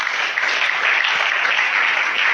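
A church congregation claps and cheers together in continuous, dense applause that holds steady and close for the whole stretch, with no break.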